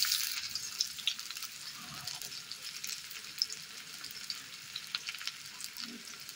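Chopped onions frying in oil with tempering spices for a flat-bean curry, a steady bright sizzle with occasional crackles and stirring clicks, fairly quiet and continuous, with no talking.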